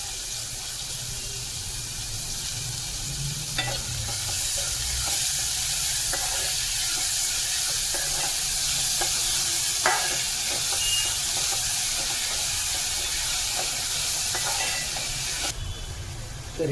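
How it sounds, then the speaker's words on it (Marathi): Finely chopped onion sizzles steadily in a pan for a banana flower bhaji, a constant bright hiss of frying with occasional soft stirring clicks and scrapes throughout. "आता आपला बारीक चिरलेला कांदा घालून घेऊया."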